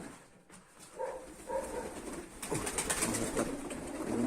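A dove or pigeon gives a couple of soft, faint coos in a quiet outdoor setting with rustling noise.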